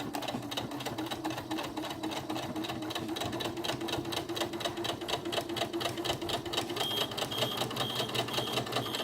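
A sewing machine stitching a drawstring backpack runs steadily for several seconds, its rapid mechanical needle rattle close and even with no pauses and no voices.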